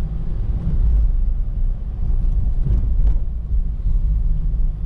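A car slows for a right-of-way intersection and downshifts to first gear during a driving test, giving a loud, close, low interior engine rumble that swells and eases without any talk.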